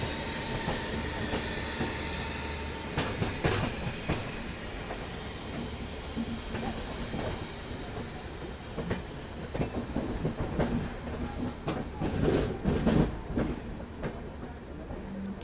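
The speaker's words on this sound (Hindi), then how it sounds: "क्या खूबसूरत डिपार्चर आया है नई दिल्ली से, सुपर।" The Sealdah Rajdhani, hauled by a Howrah-based WAP-7 electric locomotive, departs New Delhi station with loud, continuous rolling rumble, rhythmic wheel clatter over rail joints and bursts of wheel squeal, close by.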